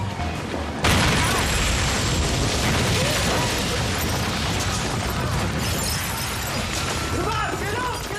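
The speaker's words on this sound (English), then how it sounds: "Remember when they blew up the joinery?" A staged TV stunt explosion blowing up a joinery begins abruptly with a loud, close blast, followed by a sustained roar of crashing, shattering debris that slowly trails off, with voices faintly audible underneath.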